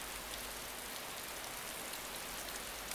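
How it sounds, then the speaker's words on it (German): Steady, dense rain hisses evenly across the whole moment in the survival game DayZ, an Arma II mod, with no pauses and nobody talking. "Regen ist natürlich auch nervig."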